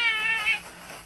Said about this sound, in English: Is the cat out of food?